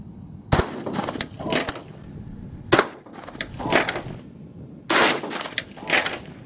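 A shotgun fires a silver slug home defense round, two or three sharp loud cracks with brief echoing tails, separated by rustling and handling noise.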